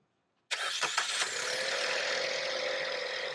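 Maruti Swift CNG three-cylinder engine cranks after a short silence, a few quick starter whirs catching into a steady, smooth idle heard up close.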